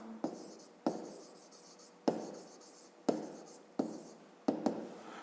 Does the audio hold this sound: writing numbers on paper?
yes